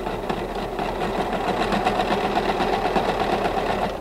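A serger sews a flatlock stitch through fabric, running with a steady, fast, even mechanical whir and rapid needle chatter for about four seconds, close and continuous.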